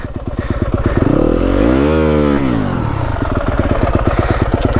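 A Yamaha WR250F dirt bike engine loud and close in a backyard, popping at idle, then climbing in a single rising and falling rev before settling back into a steady putter.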